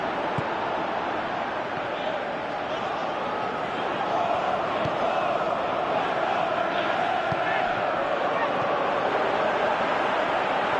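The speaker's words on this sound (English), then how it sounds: "Crowd calling for him to shoot." A stadium crowd in the PES 2018 football video game roars continuously, a loud, steady wash of massed voices that holds throughout.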